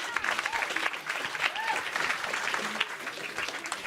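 Live audience applause for a museum curator at a Dutch stage event about Vikings, steady clapping through the whole stretch with a few voices and cheers mixed in.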